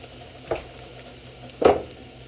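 A thick macaroni bechamel sauce is stirred in a pan: two soft, close scraping strokes of a utensil over a faint steady hiss, with quiet gaps between them and no voices.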